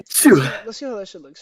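A single sneeze bursts out at the start during a casual game-ranking chat, loud and close, followed immediately by someone talking.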